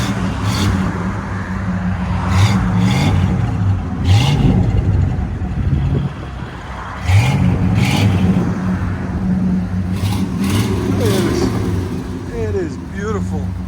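A 1973 Oldsmobile Cutlass 403 V8 idles and revs at low speed while backing up as people talk nearby, the motor rumbling steadily with occasional rises in pitch.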